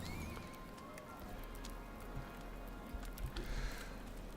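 Horse hooves in the Icarus video game, faint clip-clop steps under soft ambient game noise, irregular and quiet throughout.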